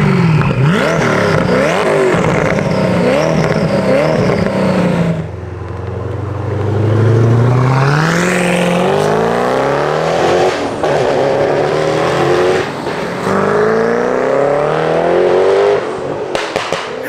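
A loud Koenigsegg engine revs hard again and again, pitch climbing and falling through sharp bursts, with a deep low rumble partway through.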